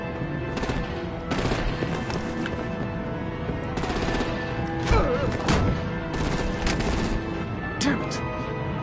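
Gunfire in a Batman: The Enemy Within Episode 2 video game scene, with repeated bursts of shots woven through dense music and effects, with voices talking.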